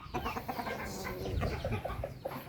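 Hens cluck in a farmyard coop, a busy run of short, overlapping clucks and soft calls from several birds close by, with no talk over them.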